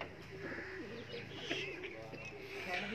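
Low, repeated cooing of pigeons with a busy background murmur, fairly close and steady throughout.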